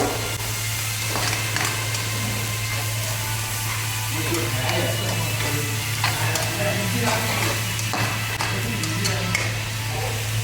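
Uggani mixture sizzling in a pan while a spoon stirs it, a steady frying hiss with scattered scraping taps from the stirring, close up, with faint talk in the background.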